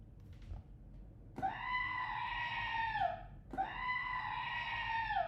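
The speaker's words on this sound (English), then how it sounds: "I needed that goat scream twice" Two loud, drawn-out goat screams, each lasting about two seconds and separated by a brief pause, ring out close and clear over quiet background noise, with nobody talking.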